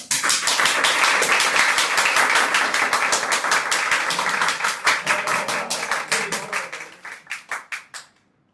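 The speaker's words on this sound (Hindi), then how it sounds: "तालियां।" Loud, sustained applause from a theatre audience at a play, steady and dense, then thinning into a handful of separate claps before fading out.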